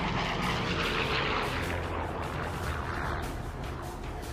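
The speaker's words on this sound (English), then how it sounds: "I rolled the airplane over and stuck the nose straight down" Propeller engines of a B-17 bomber roar steadily in a dive in the video game War Thunder, a loud, continuous droning with no voices.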